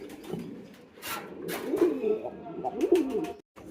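A red mukkhi pigeon cooing close by, several soft low rolling coos in a row, with faint background rustle and a brief break near the end.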